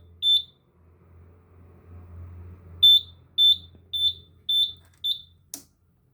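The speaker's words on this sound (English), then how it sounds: "We get out our little key for the ignition. Look at that little key. And we turns it. See how it beeping?" A vehicle's electronic beeper goes off after the ignition key is turned: six sharp, evenly spaced high beeps, one then a pause then five more, clear and close over a low hum.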